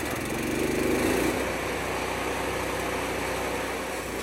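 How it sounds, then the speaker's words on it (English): A small gas-powered wood chipper engine, just pull-started, runs steadily close by, with a brief louder surge in the first second before settling into an even, droning idle with no talk. "In the startup sequence here, again, you put the fuel on and you choke on, and then you turn your red switch to on"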